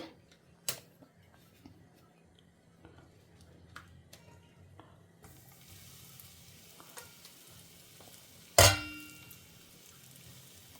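Okra pieces shallow frying in hot oil in a pan for a Tamil stir-fry give a faint, steady sizzle with scattered small pops, broken near the end by one sharp clatter.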